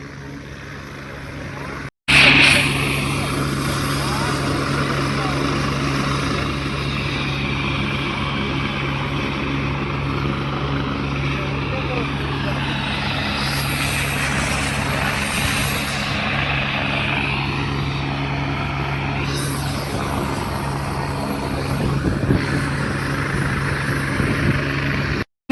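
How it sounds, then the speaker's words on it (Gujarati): A landed helicopter spins its rotors at full speed before take-off, a loud continuous whirring drone near and steady, with people talking and crowd noise underneath. "હેલિકોપ્ટર જે લેન્ડિંગ થયું ને એ મિત્રો ઉડવાની મિત્રો તૈયારીમાં છે ફૂલ પંખા ફરી રહ્યા છે"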